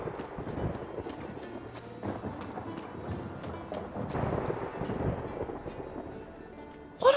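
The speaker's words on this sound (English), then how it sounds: "It sounds like thunder" Low rumbling thunder rolls through a cold, darkening scene near Kaer Morhen in The Witcher 3: Wild Hunt, a muffled, fluctuating murmur with a sharper crack at the end.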